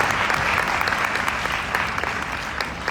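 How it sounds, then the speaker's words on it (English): A live event audience breaks into loud, sustained applause, many hands clapping in a dense, even roar that stays strong from start to finish. "A big round of applause to all of you."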